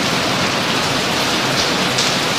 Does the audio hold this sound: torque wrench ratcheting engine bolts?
no